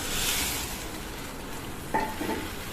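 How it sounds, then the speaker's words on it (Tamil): Hot water is poured into a pan of toor dal chutney and stirred, giving a soft steady sizzle and bubbling with a brief scrape of the spoon near the end. "அதே பாத்திரத்தில் சுடு தண்ணியை ஊற்றிக்கிறேன்."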